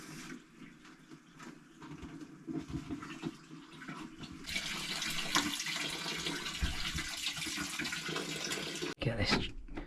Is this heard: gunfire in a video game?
no